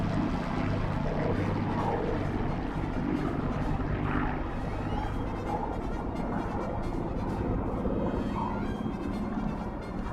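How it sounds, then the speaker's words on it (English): A Hawker Hurricane fighter, LF-363, flies a display run at a remembrance air display, its piston engine a steady, loud drone that holds without a break throughout. "Pulling the Hurricane around for a half Cuban. Coming down the flight line once again."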